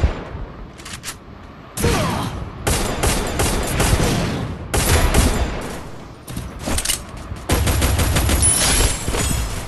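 Bursts of gunfire from the mobile battle game Free Fire crackle in rapid volleys, loud and close, separated by brief gaps, with repeated automatic fire and shots in a solo-versus-squad match.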